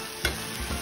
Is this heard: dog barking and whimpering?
no